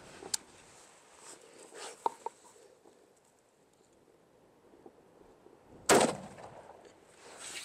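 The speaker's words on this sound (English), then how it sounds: "let's see if we can get an inch and a quarter of glass to stop a rifle round" A rifle round strikes a thick slab of borosilicate glass, about an inch and a quarter, outdoors with wind noise: one sharp, loud crack near the end, after quieter scattered clicks and handling sounds.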